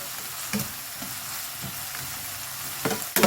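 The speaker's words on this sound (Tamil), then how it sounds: "நல்லா வதங்கணும் வதங்கட்டும் பாருங்கள்" Garlic, onion and tomato sauté in a pan for parla dry fish thokku: a steady close sizzle broken by a few scraping stirs of a spoon, no voices.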